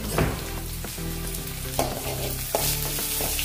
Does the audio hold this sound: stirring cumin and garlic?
yes